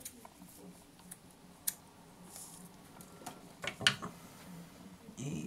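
Scissors snip craft material with a few short, crisp cuts, close and fairly quiet, against a soft rustling background with a voice faintly present.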